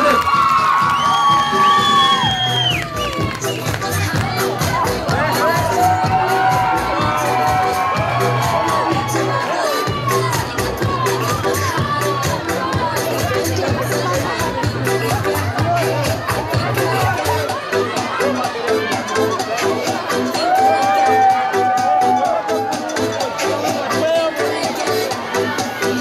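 An audience cheers for girls dancing, some in modern dress and some in traditional costume, with continuous loud crowd noise, whoops and shouts, and voices mixed in throughout.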